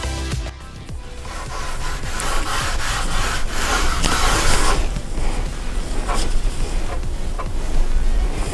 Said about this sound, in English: you just dab the cloth in, get it wet enough, start rubbing it on